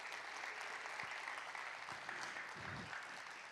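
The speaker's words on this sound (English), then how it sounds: "Can you give him a round of applause?" Audience applause greeting a guest introduced at an MLK celebration event on music and the movement, a steady, dense wash of clapping throughout with no pauses.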